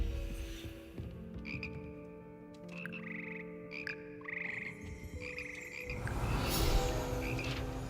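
Magical frogs of the Hogwarts frog choir in the Hogwarts Legacy video game croak in repeated, musical bursts over a low ambient drone, close and clear, with no talking.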